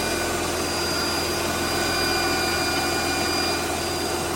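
A 2003 Mercedes-Benz C240 engine idles smoothly and steadily after an alternator replacement, a constant close hum with a faint high whine running throughout and no voices.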